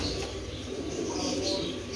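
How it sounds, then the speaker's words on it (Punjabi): A large domestic pigeon coos close by in a loft among other pigeons, its soft throaty calls blending with a steady background murmur and faint voices. "ਕਿੱਡਾ ਤਕੜਾ ਕਬੂਤਰ ਹੈ"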